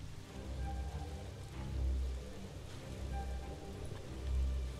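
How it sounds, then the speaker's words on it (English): Steady rain ambience from the video game Shadowgate, a continuous wash of falling rain with low rumbling swells, heard alone with no talk. "There should be rain, ambience, and music."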